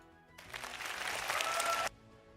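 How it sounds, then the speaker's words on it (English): A canned applause sound effect played during a live tabletop game review stream, a short burst of crowd clapping that starts abruptly, swells briefly and cuts off cleanly after about a second and a half. "Let's give Dice a round of applause."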